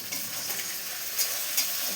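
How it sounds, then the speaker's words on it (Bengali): Chopped tomatoes hit hot oil with fried onion and garlic, giving a steady close sizzle with a couple of brief louder scraping stirs. "টমেটো কাটাগুলো দিয়ে দেবো তেলের উপরে।"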